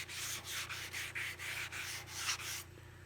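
Rapid back-and-forth hand sanding strokes on a 1973 Toyota Celica body panel, a rhythmic scratchy rub repeating about every third of a second before stopping.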